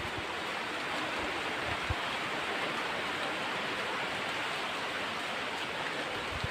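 Rain comes down on a Sunday in a steady, dense hiss that stays even and unbroken for several seconds, with no voices over it.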